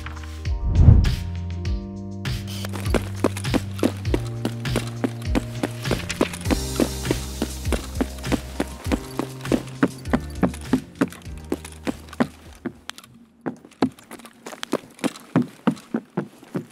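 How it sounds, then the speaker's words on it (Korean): Footsteps in the Escape from Tarkov shooter on the Shoreline resort map, a steady run of sharp repeated steps over game music with sustained tones, clearly audible throughout and coming from an upper floor. "발소리 나는데?"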